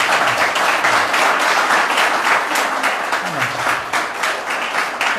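Sustained loud applause from a congregation at a church service, steady dense clapping filling the whole stretch without pause.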